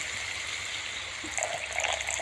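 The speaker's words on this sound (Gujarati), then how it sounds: "હવે આપણે થોડુંક પાણી નાખવાનું છે અંદર" Water pours steadily into cooked spice masala for a raw banana curry, giving a continuous close trickling rush with no talking.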